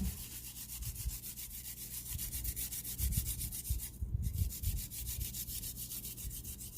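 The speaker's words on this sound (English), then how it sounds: "Now we're going to grate about 3 cloves of garlic." Garlic cloves grated for salt and pepper chicken wings, a steady close rasping rub repeating in quick even strokes, with no talking.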